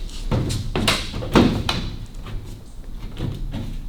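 Door of a 1930 Austin 7 Ruby being offered up to its opening during restoration, giving a few close knocks and thuds of metal and wood with scraping and shuffling between them.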